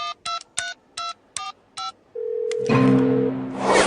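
A telephone number is dialed on a phone as a father tries to call a child's parents: six short evenly spaced DTMF key tones, then a steady tone and a burst of ringing or line noise, with no voices.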